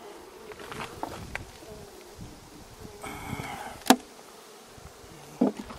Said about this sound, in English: A few bees have already run up there.